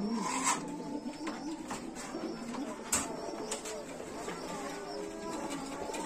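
Pigeons in a loft coo softly amid a steady background rustle and scraping, with faint voices and occasional sharper knocks nearby.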